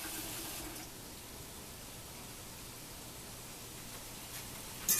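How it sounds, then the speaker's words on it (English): Water running from a sink tap while pork is rinsed, a steady hiss of flow throughout, slightly louder at first, with a couple of small knocks at the end. "Y'all see I'm rinsing off the pork."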